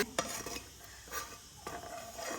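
Chicken Hakka noodles with egg are tossed in a large pan with the heat off, a spatula scraping and clinking against metal in a few irregular strokes, with a faint lingering sizzle.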